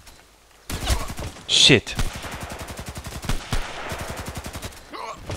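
Contract Wars video game gunfire rattles as steady rapid automatic bursts, loud and close, with a sharp blast early on and brief pauses between volleys, while a voice speaks briefly over the shooting.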